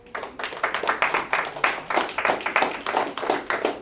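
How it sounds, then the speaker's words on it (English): Loud clapping from a small group at the close of a workshop seminar, a dense run of sharp hand claps lasting several seconds with no talk over it. "That was a very loud clap"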